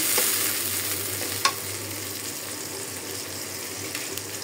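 Onion, garlic, cumin and chili powder masala sizzle in a pan for a banana and catfish curry, a steady close frying hiss with a single sharp clink of a stirring utensil partway through.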